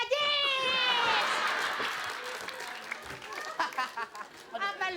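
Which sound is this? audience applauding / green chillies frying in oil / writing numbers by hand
audience applauding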